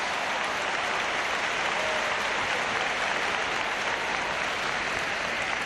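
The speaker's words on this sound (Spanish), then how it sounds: "Ovación para Delibasic por la jugada." Basketball arena crowd gives a sustained, dense ovation for Delibašić's play, a steady roar of clapping filling the whole stretch without a break.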